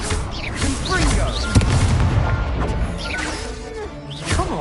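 A Confringo blasting spell explodes in Hogwarts Legacy, a crashing impact around the middle of the clip set within busy combat noise, with a voice talking throughout.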